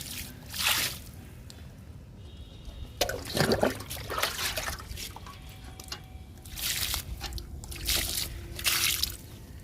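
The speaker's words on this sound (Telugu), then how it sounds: "బెండ మొక్కలకి ఇస్తున్నానండి లిక్విడ్." Liquid fertilizer made from oats and kitchen waste is poured onto okra plants in a home garden, several separate splashing, trickling bursts soaking into soil and leaves, with quiet pauses between pours.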